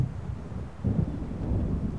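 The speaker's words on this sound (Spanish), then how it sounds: "Al parecer está en camino una tormenta." Thunder from an approaching storm in Alan Wake Remastered rolls as a low, continuous rumble that swells partway through and stays heavy to the end.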